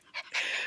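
A small pet dog pants in short breathy bursts, a brief puff followed by steadier rapid panting close to the microphone, with no talking.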